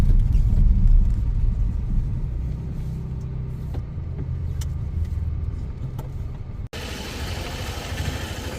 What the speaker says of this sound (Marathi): आता सगळ्या गाड्या हळूहळू सुट निघाल्या आहेत